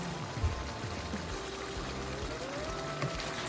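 A little water poured into a cooking pan while making igado, a soft continuous trickle under low kitchen background noise, faint and steady for a few seconds.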